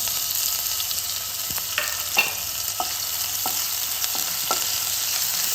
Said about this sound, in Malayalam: അതിലേക്ക് ഇഞ്ചി വെളുത്തുള്ളി ചതച്ച് ഇട്ട് കൊടുക്കാം.